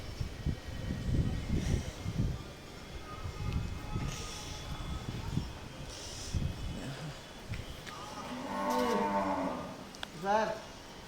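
A cow lows at the Mayapur goshala, a drawn-out harmonic moo late in the scene followed by a shorter call, over a noisy background of people talking and general farm bustle.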